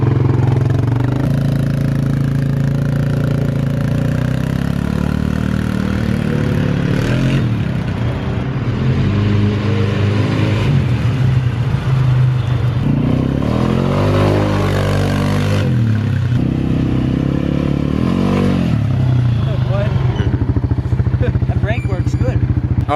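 An Arctic Cat 250 quad's engine is ridden hard, its steady mid-pitched drone rising and falling through repeated throttle surges, close and continuous, with people talking over it.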